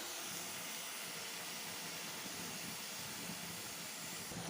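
Bengali taro greens with chickpeas and hilsa fish head simmer gently on low steam, giving a faint, even hiss with soft bubbling throughout and no talk.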